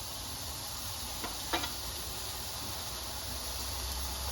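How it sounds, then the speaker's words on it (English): Bread goes into a hot pan greased with buttery spread, giving a faint, steady sizzle and hiss with one brief clatter partway through. "The way I test for hot pan is to take a little bit of the spread here, and I hear it sizzle."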